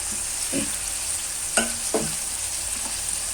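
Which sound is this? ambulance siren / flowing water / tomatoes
tomatoes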